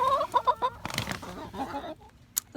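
Backyard chickens cluck close by in a quick series of short calls, followed by softer, scattered murmurs and a single sharp squawk near the end.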